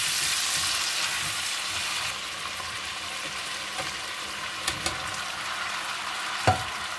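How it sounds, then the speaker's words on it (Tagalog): Chicken pieces sizzle and fry in a hot pan with a little salt, a dense steady crackle that eases slightly, broken by a few soft utensil clicks near the end. "Konting gisa."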